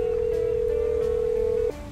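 A steady telephone dial tone from a call placed in the GTA 5 police mod, holding as one unbroken electronic hum before cutting off near the end, with no one talking over it.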